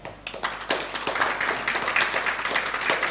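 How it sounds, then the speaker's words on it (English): Audience clapping at a business seminar, a crowd applauding together in a thick, even patter of hands, fairly loud and continuous throughout. "Give him a clap"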